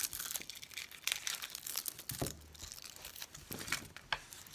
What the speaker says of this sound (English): it's then easier to peel the brown part off